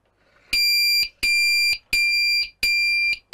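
A Pyronix Enforcer alarm panel sounds after a door contact is opened, giving four loud, shrill electronic tones of about half a second each with short gaps between them.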